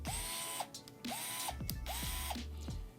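Fanttik S1 Pro electric screwdriver running in bursts, each a short whirring spin-up with a ratcheting clutch chatter, repeated three times up close with no talk.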